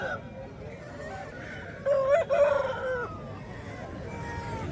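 Roosters and chickens at a hen market in Bhadradri Kothagudem, with a short crow-like call rising near the middle over steady crowd murmur and nearby voices.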